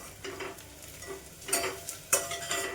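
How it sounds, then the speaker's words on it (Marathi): Spices and homemade red masala sautéing in a pot for one-pot tomato rice, a soft steady sizzle with stirring scrapes and a couple of sharper clatters near the end. "आता मसाले थोडेसे परतून घेऊया."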